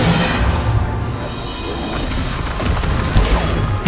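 Bombarda spell exploding in the video game Hogwarts Legacy, a deep rumbling boom that rolls on with low-frequency crackle and a brief sharp burst near the end, loud and close.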